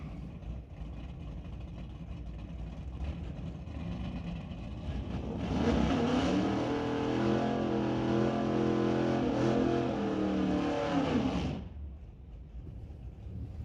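A race car engine in a shifter-class event at Lordco Auto Parts Smoke Fire and Thunder revs up hard and holds a loud, sustained roar for several seconds, then drops away abruptly, with a rumbling idle before and after.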